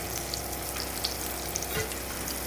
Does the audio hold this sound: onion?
yes